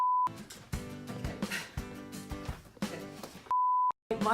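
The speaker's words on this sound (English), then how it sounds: "Oh, that's a fire alarm" A steady single-tone beep from a fire alarm sounds briefly at the start, then returns near the end in a loud sustained burst after a stretch of music-like sound, with a short gap cutting it off.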